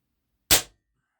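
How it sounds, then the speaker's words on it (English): A single sharp gunshot fired outdoors: one loud, abrupt crack that dies away quickly, with silence before and after. "I'm gonna try to shoot another one here."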